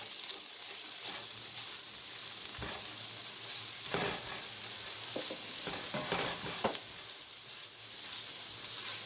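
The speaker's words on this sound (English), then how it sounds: "So in the same pot, I have gone ahead and added some more butter. I'm just going to go ahead and add in the onion." Onion sizzling in melted butter in a pot while making keto butter chicken: a continuous bright frying hiss with occasional stirring scrapes and crackles, steady and close, no voices.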